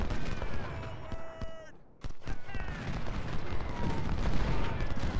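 Musket volleys and artillery rumble from an Ultimate General: Civil War battle at Gaines Mill, steady distant crackling fire with a sharp burst midway, faint tones and talk layered over it.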